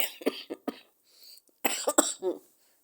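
Close, dry coughing from one person: a quick cluster of three or four coughs, a short pause with faint throat sounds, then another burst of coughs.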